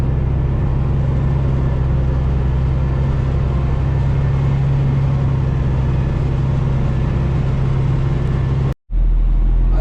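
A heavy truck drives over a rough construction site road, its engine a steady, loud low rumble throughout, cutting off abruptly near the end.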